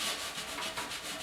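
Paint is rubbed by hand to blend it on a wooden guitar hanger, with soft, continuous rhythmic rubbing strokes close by and no talking.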